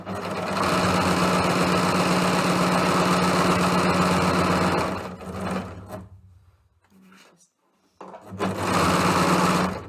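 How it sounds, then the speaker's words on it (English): A 4-thread overlocker sewing down a fabric edge while making a zipper bag: a loud, steady motorized hum and rapid stitching runs for about five seconds, slows and fades to near silence, then restarts at full speed. "sew down the edge with your 4-thread overlock"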